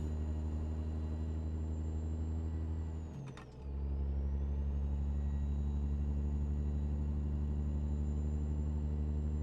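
Constant low drone of a heavy truck engine in a driving video game, recorded from a real truck in Australia, with a brief dip as gears shift, then the steady hum resumes.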